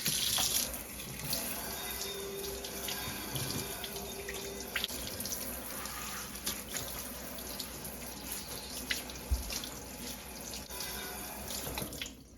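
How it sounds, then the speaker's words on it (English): A tap runs steadily as water rinses a cymbal in a sink, a constant hissing splash with the occasional clink and drip, fairly faint and heard without any voices. "Now we just need to rinse this off."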